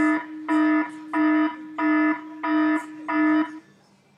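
An alarm sound effect from the iMovie sound library on a Mac: six evenly spaced, loud electronic buzzing pulses with short gaps between them, each holding a steady tone, clean and with no voices.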